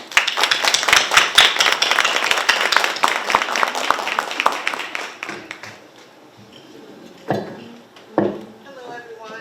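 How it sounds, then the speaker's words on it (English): Audience applause welcoming the evening's speaker at a Black History Month celebration, a burst of dense close clapping that thins and fades, followed by brief spoken voices. "ladies and gentlemen, please give a round of applause for Mrs."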